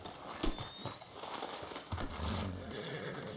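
A horse in the video game Red Dead Redemption 2 whinnies and snorts, with a few clip-clop hoof sounds under a steady outdoor ambience.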